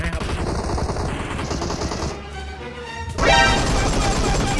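Gunfire from the mobile battle royale game PUBG Mobile in a ruined town: dense, rapid shots crackle throughout, dropping out briefly before a loud burst returns, with a player talking over the action.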